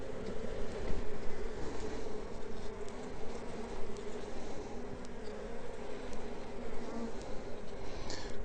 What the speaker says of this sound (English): these bees just definitely didn't go hungry the winter